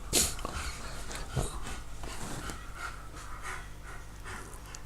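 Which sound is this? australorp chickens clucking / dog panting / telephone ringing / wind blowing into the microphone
dog panting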